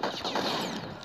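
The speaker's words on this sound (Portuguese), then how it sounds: "E atirando aqui, vai acertar alguém." Gunfire from the video game Space Marshals 2 crackles in a rapid, dense burst of sharp shots over busy game noise, close and loud, with no talk.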